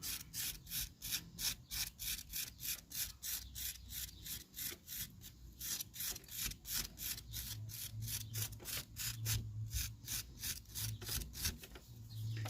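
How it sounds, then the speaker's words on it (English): A plastic credit card scraping over the surface of a clay pinch pot, giving a steady rhythmic rasp of short repeated strokes up close, with no talking. "That's great for sort of scraping back any of the surface of your pot."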